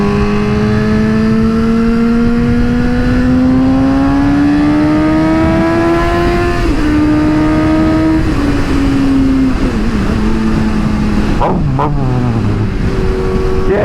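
A Suzuki GSX-S 750 motorcycle pulls hard in third gear, engine revs climbing loud and close, then dropping and rising again through gear shifts, with steady wind rush beneath.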